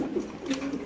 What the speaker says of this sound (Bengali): এক জোড়া ক্রিম বার বিউটি কবুতর।